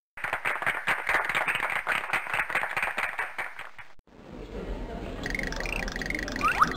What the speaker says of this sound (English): Give it up, folks! Let's hear some applause!